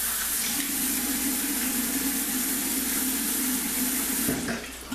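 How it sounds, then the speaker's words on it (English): Cold water runs steadily from a bathroom tap into a sink while rinsing after a shave, a continuous close hiss and splash that tapers off at the very end. "a little cold water rinse there"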